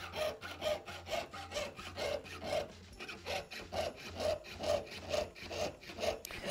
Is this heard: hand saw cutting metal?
yes